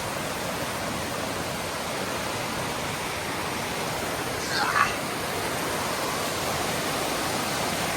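A steady, dense rush of falling water from Thoreau Falls fills the scene, loud and constant, with a brief faint disturbance midway.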